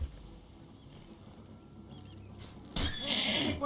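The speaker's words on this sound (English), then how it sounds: "You better not be hitting my horse." A horse in the video game Oblivion lets out a sharp, loud whinny near the end, after a stretch of quiet ambient game sound, with no talking.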